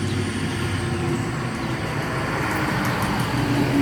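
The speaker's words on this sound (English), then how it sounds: "There's work trucks around here loud." Loud work trucks pass outside a house, making a steady low engine rumble and road roar that holds across the whole stretch without pause.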